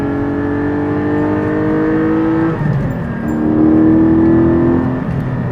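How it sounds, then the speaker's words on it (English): A Porsche 718 Spyder's 414-horsepower engine, held in second gear, revs loudly and steadily, dips briefly, then climbs again to a higher-pitched, sustained howl at high RPM, with no voices. "listen to how loud it gets when you get up to the higher RPMs."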